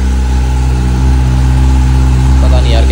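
A motorbike engine ticks over at a steady idle after starting, loud and close, with a low, even drone that holds throughout and a faint voice underneath.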